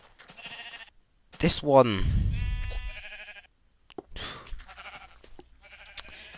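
Sheep bleating in Minecraft, a few short bleats heard between stretches of someone talking, with other game sounds mixed in.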